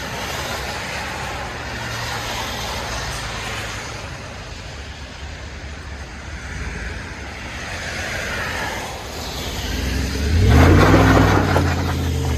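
A Chevy Silverado High Country with a 5.3L V8 and Borla Atak exhaust rumbles loudly and steadily, then revs up into a deeper, stronger roar near the end.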